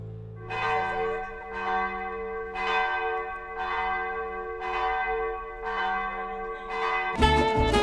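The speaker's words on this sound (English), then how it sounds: "we're actually planning to ring the bell" The church bell in the tower of Duomo San Giorgio in Modica rings close and loud, seven evenly spaced strikes whose tones ring on between hits, then a clanging burst at the end.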